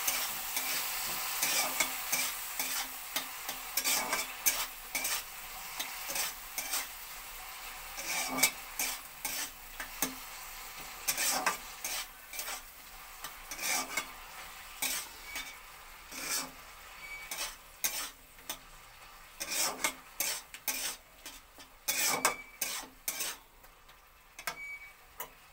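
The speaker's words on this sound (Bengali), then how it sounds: "একটু লঙ্কার গুঁড়ো দিয়ে এটাকে ভালো করে ভাজতে হবে।" Tomato chutney with chili powder frying in a pan, a spoon scraping and stirring in quick irregular strokes over a soft continuous sizzle, close and fairly quiet with no talking.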